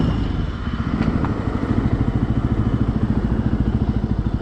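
Benelli motorcycle ridden at speed, its engine note a steady pulsing drone with rapid regular firing beats and a couple of brief shifts between gears, loud and close with no talk.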